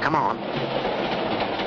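Rumbling train movement on rails with a steady mechanical roar, while a person speaks briefly over it.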